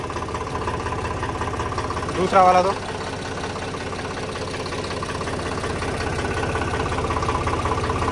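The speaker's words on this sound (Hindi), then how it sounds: "तो भाई ट्रैक्टर चालू है" Idling tractor engine holding a steady low rumble throughout, with a brief louder burst near the middle and a short spoken phrase over it.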